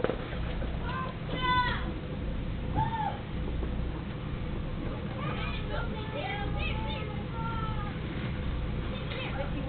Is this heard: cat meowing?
yes